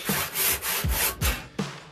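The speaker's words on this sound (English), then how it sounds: "trying to split a log into cookies with a handsaw" A handsaw rips back and forth through a log being cut into round cookies, each rasping stroke close and loud in a steady rhythm of about four strokes, with no voices.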